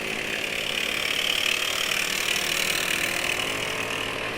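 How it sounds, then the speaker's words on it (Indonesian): A Honda Sonic motorcycle engine idles steadily with a rough, diesel-like rumble, constant and close, with no voices. "Kok bisa suaranya kayak motor diesel?"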